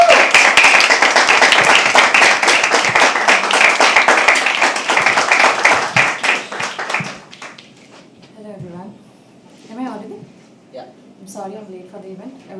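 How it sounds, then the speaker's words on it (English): Audience at a live poetry open mic claps loudly and densely for about six seconds, the clapping tapering off into scattered claps, with voices talking over the fading applause. "Keep clapping."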